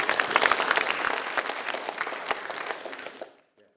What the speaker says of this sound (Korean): 이의 없으시면 박수로 추인해 주시면 제가 당론입법으로 제안하도록 그렇게 하겠습니다